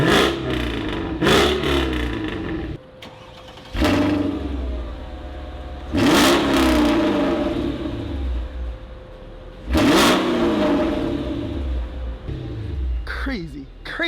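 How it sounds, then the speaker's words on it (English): A Mercedes E55 AMG V8 fires up and is blipped through several sharp, loud revs that fall back to a rumbling idle between bursts, close to the car. "Now I'm gonna start it up because I want you to hear this car is an absolute beast"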